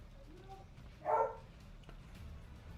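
A pet dog gives one short bark at moderate distance, alone over a quiet room hum.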